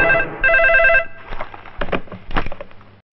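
A telephone rings with bright electronic tones during a call to a minister in a Hindi-dubbed South Indian film scene, two ringing bursts up front, then voices take over.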